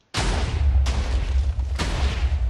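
Cannon fire in a video game, launching an anvil: three heavy, booming blasts in succession, each deep and loud, with a rumbling tail running between them.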